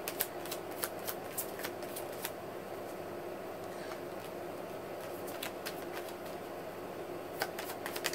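Tarot cards being shuffled and handled, faint rapid flicking clicks in bursts over a low background hum, quiet and close.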